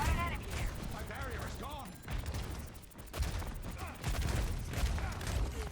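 Rapid rifle shots and game combat noise from Ashe in the video game Overwatch 2, a dense run of loud impacts and firing layered over busy battle sounds, without clear speech.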